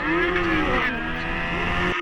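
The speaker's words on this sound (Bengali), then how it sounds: "এই দেখেন এটা আমি বাইক চালাতেছি" A revving engine with a shifting pitch, like a motorbike accelerating in a game, loud and continuous for a couple of seconds.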